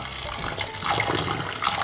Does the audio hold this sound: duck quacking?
no